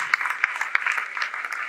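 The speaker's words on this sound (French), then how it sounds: "On applaudit, on applaudit." A debate audience claps in a brief, dense patter of many hands that holds at a moderate level without a clear build or fade.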